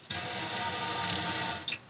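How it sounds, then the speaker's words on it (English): A touch-activated kitchen faucet in a Travato camper van runs in a steady, close stream of water into the sink, cutting off with a brief splash near the end. "This is that faucet where you turn it on,"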